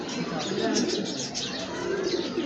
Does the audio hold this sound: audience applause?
no